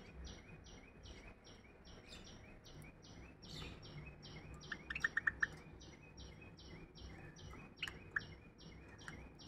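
Young pet birds in a cage give a few short, high chirps, clustered in a quick burst midway and again near the end. The chirps sit over a steady, rhythmic pulsing background.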